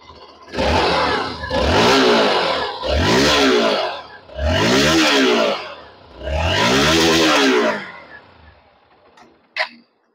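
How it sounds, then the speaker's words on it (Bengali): A 2024 Hero Xpulse 200 Pro 4V motorcycle engine revved through its exhaust in four loud, close bursts, each rising and falling back, followed by a short sharp click. "এবার আমি একবার ইঞ্জিন আর এক্সস্টের সাউন্ড আপনাদের শুনিয়ে দিচ্ছি"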